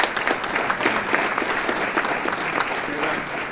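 Banquet audience applauding the assistant coaches at a Section V high school football banquet, a steady, dense wash of clapping from a large crowd indoors, moderately loud and sustained throughout.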